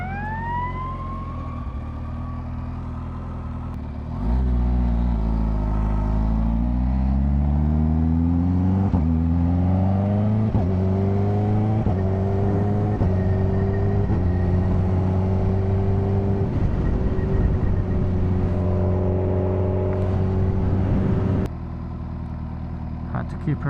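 Kawasaki H2R supercharged motorcycle engine held at low RPM, a loud rumbling note that rises and falls through several revs over about seventeen seconds, with a voice talking at the start.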